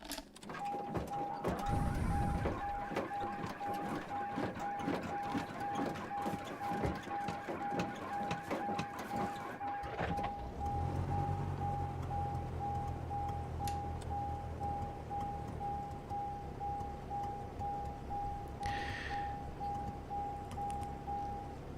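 A small propeller airplane engine cranks with a rapid clattering starter, then catches and settles into a steady idle drone, accompanied throughout by a constant electronic tone.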